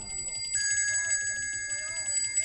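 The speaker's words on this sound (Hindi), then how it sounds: "घंटी बजा, घंटी है।" A temple bell rings during a Baba Ramdev ji birth-story recital, with sustained metallic tones hanging steadily in the background while people talk over it throughout.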